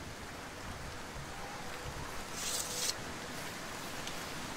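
Steady rain in Morroblivion, the Morrowind remake within Oblivion: a continuous soft hiss of falling rain, fairly faint and even, with a brief brighter swell midway.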